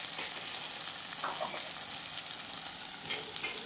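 Spices with chili and poppy seed fry in a pan for galda prawn malai curry, a soft, even sizzle with light stirring scrapes, fairly quiet and close.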